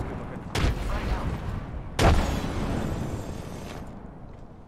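Frag grenade blasts and gunfire in the video game Apex Legends: two heavy booming bursts a second or so apart, each trailing into a rumbling decay over continuous battle noise.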